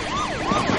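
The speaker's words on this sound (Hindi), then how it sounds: "पुलिस सायरन सुनाई दे रहा है" A police siren wails close by, its pitch sweeping up and down in a short, rising-and-falling cycle.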